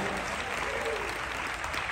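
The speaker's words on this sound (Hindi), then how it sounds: "जोरदार ताली बजाइए।" Steady, dense applause from a church audience fills the whole moment, a continuous even wash of clapping without breaks.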